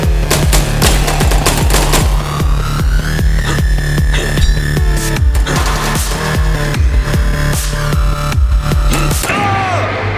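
Rapid, loud pistol gunfire from the video game I Am Your Beast fires in dense, continuous bursts with game music, and the shooting carries on without pause to the end.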